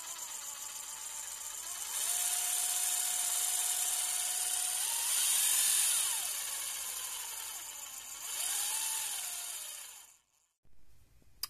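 An RC crawler's rebuilt transmission whirs in a high, whiny drone that rises and falls in pitch as it runs, loud and close, before cutting off near the end.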